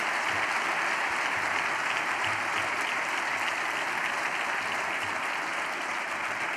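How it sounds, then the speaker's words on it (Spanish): Applause from a crowd at a political party's autumn university closing speech, a thick, uniform wash of many hands clapping, sustained at an even level from start to finish without voices. "Un aplauso"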